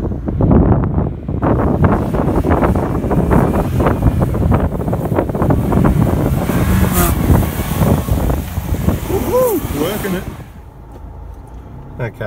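A 4x4 car cruising over sand dunes on low tyre pressure, its engine a steady loud drone mixed with heavy wind buffeting on the microphone, fading slightly near the end.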